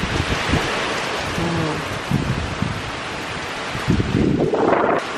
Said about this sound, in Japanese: 今日は大雨だから、心配。